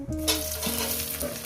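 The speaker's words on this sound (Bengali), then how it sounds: "এবার আমি শুকনো লঙ্কাগুলো ফাটিয়ে দিয়ে দেবো।" Dried red chillies sizzling and frying in hot oil: a steady, dense crackling hiss from the pan, with brief spits and pops over a low background hum, heard close and loud with no talk.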